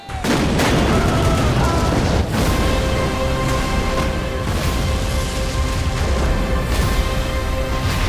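Cannon fire in a battle film about a 1592 naval clash off Korea, heard as a dense, loud barrage of booms and blasts that runs nearly without pause over a roaring background, with shouting mixed in.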